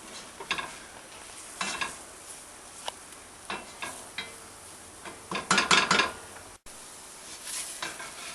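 Spices being stirred into a sizzling onion and garlic mixture for an Indian-style meat curry, with scraping utensil strokes spaced irregularly over a steady fry and a quick cluster of clatters near the end.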